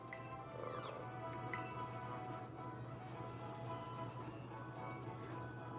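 A single high, sweeping cat-like meow from a cat Pokémon in Pokémon Scarlet near the start, over a steady electronic hum, followed by soft synthesized background sounds.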